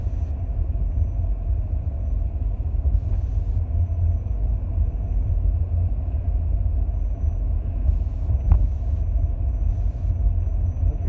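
A Land Rover Discovery 3 TDV6 HSE automatic trundles along at low speed, a constant heavy low rumble of engine and road noise heard from inside the cabin, steady throughout with faint occasional clicks.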